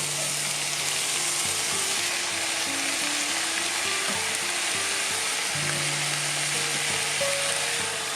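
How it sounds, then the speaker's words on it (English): Beef mince with chopped garlic and green peppers frying in a pan for a Turkish-style dish, a steady loud sizzle running throughout with occasional scraping of a spoon as it is stirred, no voices. "it's time to stir in the chopped garlic and the green peppers. Give them a mix."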